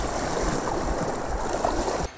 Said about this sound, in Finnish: Tuossa on yllättävän kova virta tuossa.